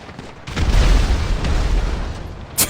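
Heavy, booming grenade explosion in the video game GTA 5 Online, a deep blast with a long rumbling tail, then a short sharp crack near the end.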